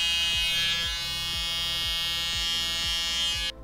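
An electric hair clipper trims hair up around the ear, giving a steady close buzz with regular pulsing strokes about every half second before it cuts off abruptly near the end.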